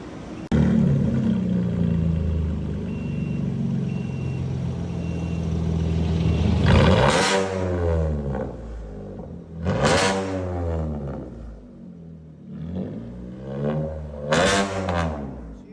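A 2020 Chevy Colorado with a 2.5-inch straight-pipe exhaust, heavy-duty brackets and dual black staggered tips exiting ahead of the wheel starts with a deep rumbling idle, then barks through three loud, sharp revs that rise and fall back.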